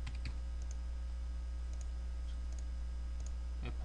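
A few sparse, faint clicks of computer keyboard key presses over a steady electrical hum, quiet and close, during work in 3D drawing software.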